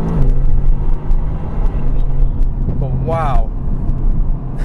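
A tuned 2018 Mercedes-AMG GT R driven on the road, a low engine rumble and drone from inside the cabin, with a voice exclaiming over it and a brief rising whine near the end.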